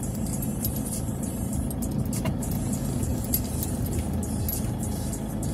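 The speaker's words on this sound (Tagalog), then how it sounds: "medyo may traffic na" Road traffic in Baguio, Philippines, a steady low rumble of car engines passing nearby, continuous and even throughout with faint higher noises on top.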